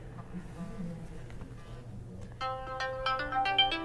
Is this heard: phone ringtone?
yes